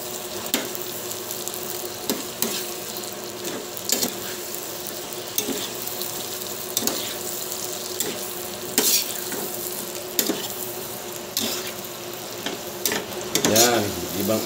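Shrimp frying in a butter garlic sauce sizzles steadily and loudly up close, as a utensil stirs and scrapes the pan with repeated sharp clatters.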